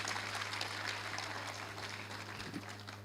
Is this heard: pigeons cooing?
no